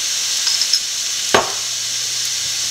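Crab masala with chili and pepper powder sautés in a pan, a soft steady sizzle heard close with one sharp stir or knock partway through and no talk.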